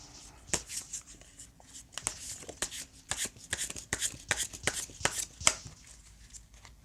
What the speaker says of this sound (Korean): 1번 여러분들의 용신 카드를 한번 뽑아보도록 하겠습니다